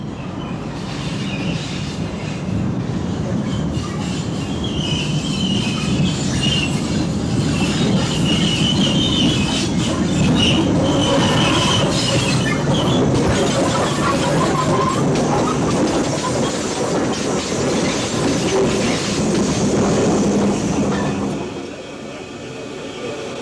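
Mallard steam locomotive setting off with a tour train on the West of England main line: a loud, continuous rumble of rolling wheels with metallic squeal and clatter, easing off near the end.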